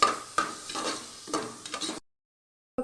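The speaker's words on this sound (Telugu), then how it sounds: "ఇవన్నీ మసాలాలు వేసిన తర్వాత ఒకసారి ఫ్రై చేసుకోవాలి" Spices for egg biryani fry in a pan as a spoon scrapes and stirs in short bursts over a light sizzle, close up, then the sound cuts to silence near the end.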